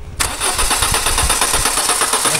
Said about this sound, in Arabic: نسمعوا هنا نسمعوا هنا الموتور كيش يمشي